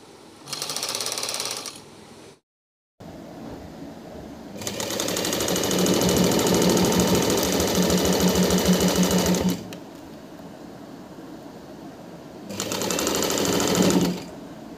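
Sewing machine stitching the border of an Assamese chadar, running in three loud bursts of rapid, even needle chatter separated by brief pauses, close and alone.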